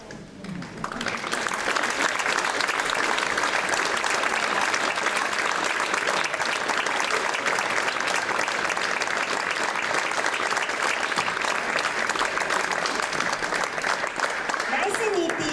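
Sustained applause from an audience at a school children's folk dance show marking the group's 20th anniversary, dense steady clapping that swells in within the first second and holds loud and even to the end.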